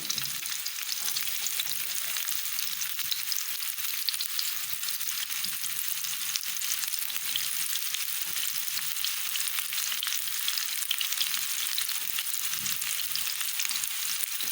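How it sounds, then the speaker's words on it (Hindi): Chopped onions fry in hot cooking oil, giving a loud, unbroken crackling sizzle that runs evenly for the whole stretch, close up and without talk. "इसके अंदर मैंने जो प्याज कटिंग करके रखा है ये डाल दूँगी।"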